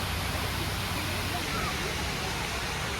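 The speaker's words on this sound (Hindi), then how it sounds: "उसी से सटके है ये प्यारा सा झरना" Waterfall in Chitrakoot, Uttar Pradesh, near a river: a steady, dense broadband rush of falling water, constant and fairly loud throughout with no breaks.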